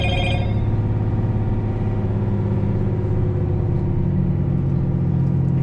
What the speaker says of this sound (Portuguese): Freio motor aí já funcionando aí.